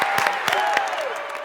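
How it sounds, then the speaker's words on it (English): Applause and cheering for a cheer squad at a preteen children's church show, a short burst of clapping from the crowd with a few sharp claps standing out over a steady tone. "Let's give it up for the Cheer Squad."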